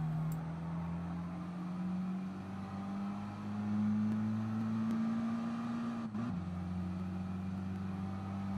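Video-game race car in Gran Turismo Sport on the Nürburgring Nordschleife at full throttle: a close, steady engine drone climbs slowly in pitch, then drops briefly at a single gear change before pulling on, with no voices.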